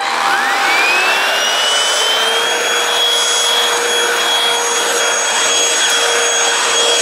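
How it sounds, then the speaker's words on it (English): A vacuum cleaner hoovering a home, a steady loud whining roar that rises in pitch as it spins up, then holds constant and close throughout. "This is me hoovering."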